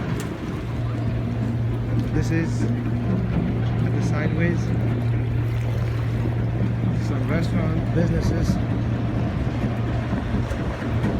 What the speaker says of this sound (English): now this is a water bus. It's like a normal bus, but in water